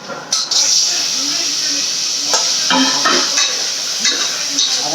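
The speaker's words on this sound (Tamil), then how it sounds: "வெங்காயம் வதங்கிட்டு தக்காளி போட்டுக்கலாம்" Tomatoes going into sautéed onions in a hot pan, with a loud, continuous hiss and sizzle broken by repeated scraping stir strokes.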